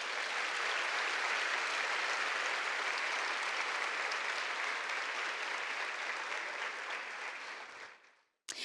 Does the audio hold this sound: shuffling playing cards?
no